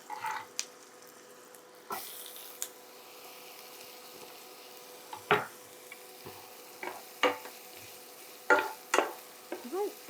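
Chopped onion and peppers sizzle in a pan for a simple ground beef lasagna, a faint steady fry broken by occasional louder clinks and stirring scrapes, with no talking.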